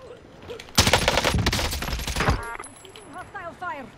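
A loud burst of enemy automatic gunfire in the shooter Warzone, about a second and a half of rapid crackling shots, followed by chirping electronic game cues.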